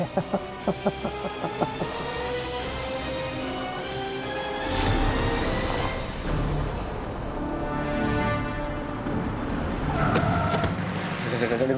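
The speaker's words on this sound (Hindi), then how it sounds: "अम्मा गाड़ी आ गई।" A car pulls up in a household drama scene, its engine rumble swelling and settling close by after a few sharp knocks, with background music and voices around it.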